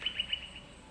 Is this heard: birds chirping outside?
yes